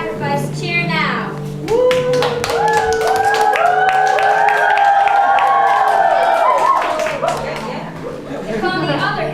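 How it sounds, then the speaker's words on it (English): A live camp theater audience cheers, with many voices rising together in a loud, sustained shout and scattered clapping before and after. "If you want to see them viciously sacrificed, cheer now."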